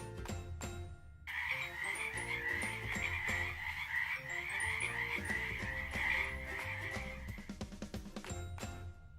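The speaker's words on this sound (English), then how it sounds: "F for frog. FROG frog." Frogs croak in a dense, rhythmic chorus, loud and continuous, with a steady pulsing buzz.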